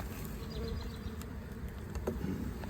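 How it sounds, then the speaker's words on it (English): Honey bees in an open hive with about four frames covered in bees drone in a steady, low, dense hum, fairly faint and continuous throughout. "Yes, we have plenty of bees."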